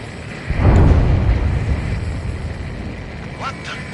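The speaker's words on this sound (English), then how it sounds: "A huge explosion just went off underwater." A huge underwater explosion in the Ace Combat 7 combat flight game, a deep muffled rumbling boom that swells and then slowly fades under a steady drone, with a faint radio-like chirp near the end.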